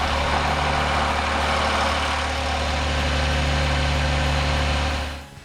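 A 1997 fourth-generation Nissan Maxima engine, just after a crankshaft front oil seal replacement, runs at a steady idle with an even low hum and rumble, close and alone, cutting off at the end.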